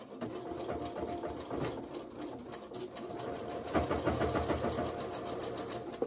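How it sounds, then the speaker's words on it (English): A sewing machine stitches a seam on a New Look 6233 sewing project, running steadily and close up, with a continuous rapid mechanical whir and slight surges in speed. "and continue sewing"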